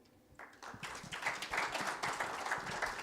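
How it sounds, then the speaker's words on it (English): An audience at a rebranding and website launch event breaks into applause, starting from near quiet and building quickly into steady, close clapping from many hands. "Another round of applause for Osman"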